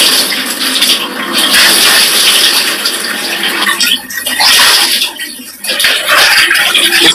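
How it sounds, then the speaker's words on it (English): Water pours in a loud, rushing gush that surges and dips unevenly, briefly easing in two places before picking up again, with no talk over it. "Mr. Andy, there is water is pouring."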